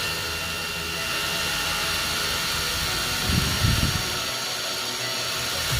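A J.LD cordless impact driver runs at its lowest speed, giving a steady broadband motor whir that stays even throughout, with a short louder surge partway through.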